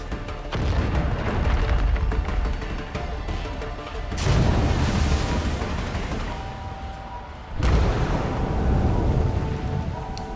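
Heavy, continuous rumbling blasts in a dense Far Cry 5 game mix, with sharp booming surges near the start, middle and later on, and no talking.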